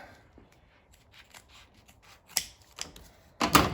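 Vinyl top material for a 1968 Thunderbird being cut by hand, with faint soft rustling that builds into a few sharper snipping cuts near the end, close and quiet, with no talking.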